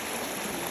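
Water from a waterfall near Buscalan rushes in a steady, broadband wash, continuous and fairly loud, with no voices over it.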